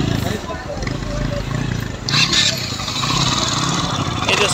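A repaired KTM RC motorcycle engine runs close by and revs up partway through, rising in intensity under a voice talking over it.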